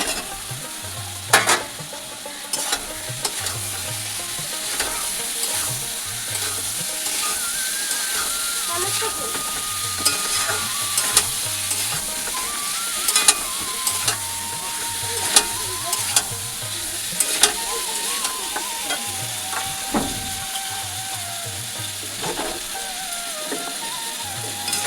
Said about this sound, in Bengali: এই যে দেখো পটল আলু ভাজাটা দিয়ে দিচ্ছি